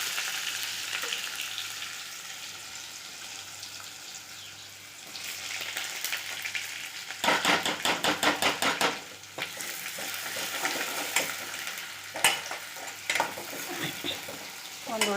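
Sliced onion goes into hot oil with mustard seeds and curry leaves, starting a loud, close sizzle and crackle, followed by bursts of spatula stirring and popping, with no talk.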